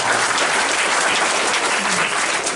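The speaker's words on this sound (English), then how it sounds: "you can clap for that" Dense, steady applause from an audience at a climate change forum, a continuous wash of many hands clapping throughout with no speech on top.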